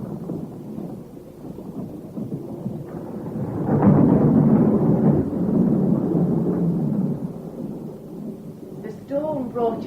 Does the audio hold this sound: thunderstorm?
yes